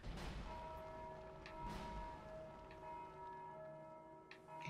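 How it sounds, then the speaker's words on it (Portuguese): A church bell rings out in the Dark Souls 2 game world, its sustained tones hanging over a low rumbling ambience, with repeated strikes decaying slowly across the stretch. "Quem é que tá batendo no sino?"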